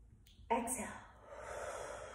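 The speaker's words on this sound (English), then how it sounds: "Inhale" Deep inhale during a Kundalini yoga breathing exercise, a sudden sharp intake of breath that turns into a long, airy, steady draw, close and fairly quiet.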